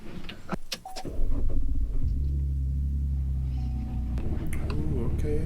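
A small car started on a very cold day catches with a loud low surge, then settles into a steady, close rumbling idle, with some brief handling noises and a voice at the start.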